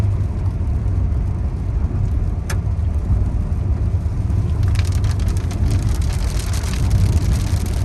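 Steady rain hissing down under a low rumbling hum, with a few sharp ticks and a brighter patter of drops near the end.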